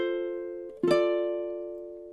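A ukulele plays the strummed measure 34 of a song: sustained chord tones ring, then one sharp strum near the middle of the clip sets a new chord that decays slowly, played alone.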